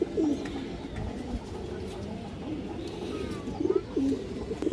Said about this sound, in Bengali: এই যে মাদিরা দেখেন দর্শক বিগ সাইজের 2টা কবুতর